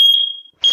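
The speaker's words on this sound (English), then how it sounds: "Smoke alarm." A Nest Protect smoke alarm that cannot be hushed, in a master bedroom, gives a loud, piercing single beep that fades out, then a short silence before the next beep starts.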